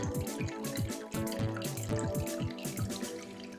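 Water drips and trickles from the ends of soaked yarn in quick, uneven droplets close by, a busy patter of splashes with no voices.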